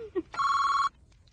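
A telephone rings once with a single steady electronic tone of about half a second, clear and close, preceded by a brief voice sound.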